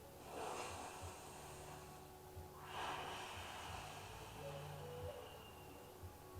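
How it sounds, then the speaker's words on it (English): Deep yoga breaths are drawn in through the nose and let out through the mouth, two slow exaggerated breath cycles, close and fairly soft. "we're going to take deep yoga breaths, breathing with intent, so breathing through your nose and out through your mouth."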